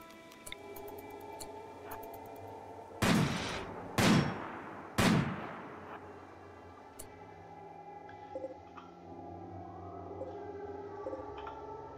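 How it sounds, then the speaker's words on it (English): Centipede mechanoids fire an inferno cannon and a minigun in RimWorld, three sharp, loud blasts about a second apart followed by fainter scattered pops and clicks over a low ambient drone. "inferno cannon, and minigun."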